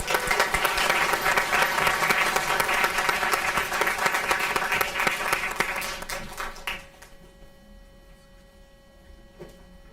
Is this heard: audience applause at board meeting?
yes